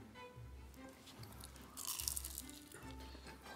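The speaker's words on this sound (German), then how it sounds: "Hört ihr das? Dieses Knuspern?" Pistachio baklava crunches between the teeth in a quiet, close series of crisp bites and chewing, several dull crunches in a loose rhythm with no talking over them.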